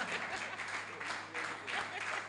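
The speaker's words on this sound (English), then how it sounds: "put your hands together for Mr. Nnamdi Ibe. See swag now, clap, clap, clap well" A room full of people claps for a speaker being introduced, a dense, moderately distant applause with some rises and dips across the short stretch.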